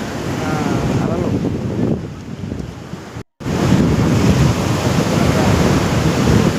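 Sea waves roll and crash steadily at Kothakoduru beach, a loud continuous surf wash with heavy wind buffeting on the microphone and a brief dropout midway.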